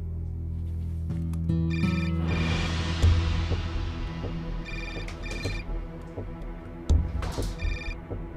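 A telephone rings indoors in a Turkish drama scene, with repeated bursts of electronic ringtone tones recurring at intervals over a low room background.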